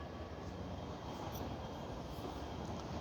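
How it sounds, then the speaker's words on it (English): A Long Beach Blue Line light rail train runs along the street downtown on Christmas Eve, heard as a steady, moderately distant rumble of wheels and rail noise throughout. "I am near the train. Let me get a picture of this blue line."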